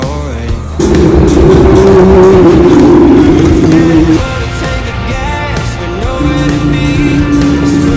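Formula 2 race cars at the Qatar Grand Prix scream past in the pit lane, their high engine whine loud and close, rising and falling as gears shift and several cars go by one after another.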